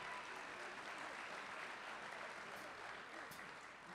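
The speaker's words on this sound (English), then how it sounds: "Give the band parents a round of applause, please, guys." A concert audience at a spring jazz performance claps for the band parents, a steady wash of applause that sounds faint and distant and continues evenly for about four seconds.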